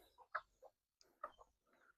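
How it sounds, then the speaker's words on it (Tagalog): Chickens on a poultry farm clucking in a few short, faint bursts with brief quiet gaps between them. "Manok ra gud na."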